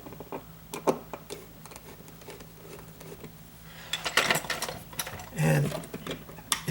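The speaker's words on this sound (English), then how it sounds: "Got the new screws here. I'm just going to get that started." New screws being started by hand into an Intermatic timer, with small irregular clicks, taps and scraping of metal parts, busier handling noise toward the end, no speech.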